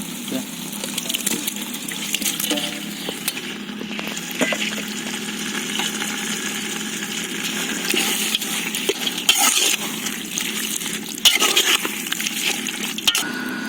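About a litre of water gushes steadily into a large pot of mutton biryani with basmati rice on a hot stove, a loud continuous pour with occasional metallic clinks.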